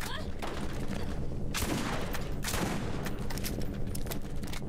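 Shotgun blasts in the Borderlands video game, several loud broadband bursts in quick succession with a dense, continuous background of game noise and action between shots.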